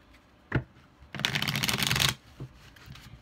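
A tarot deck is shuffled close by in a quick, riffling burst lasting about a second, with soft handling taps before and after.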